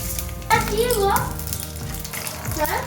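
Dry chilies, mustard seeds and five-spice hit hot mustard oil in a kadai, giving a steady close sizzle and crackle with a sharper burst of frying near the start.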